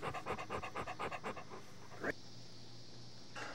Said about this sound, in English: So we love all our dogs, and Kramer's a good boy.